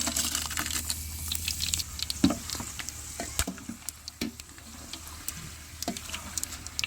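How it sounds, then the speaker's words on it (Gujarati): A second tempering of chilies, star anise, cloves, black pepper and kamalpatra sizzles hard in hot oil for a village-style okra-in-yogurt dish, a steady close crackling hiss broken by sharp spattering pops. "બીજો વઘાર એમાં કમલપત્ર, મરચાં અને બાદિયા, લવિંગ ને તીખા એ બધી વસ્તુ આપણે આમાં નાખી દેવાની છે"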